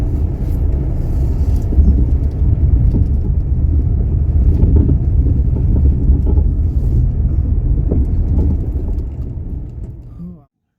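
A car travelling on a road near the new Badlapur–Panvel tunnel in the rain, its steady engine and tyre rumble mixed with wind buffeting, then slowing and fading out as it pulls over to the roadside; faint voices are present.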